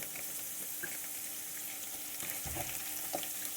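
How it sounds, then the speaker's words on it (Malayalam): Dried red chilies frying in oil alongside ginger and green chili for a rambutan pickle, a constant close crackling sizzle with small pops and light stirring throughout. "ഉണക്കമുളക് പെട്ടെന്ന് ഫ്രൈ ആവും"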